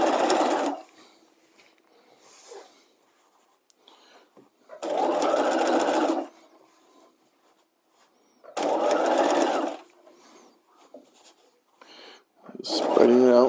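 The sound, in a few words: sewing machine stitching armhole facing seam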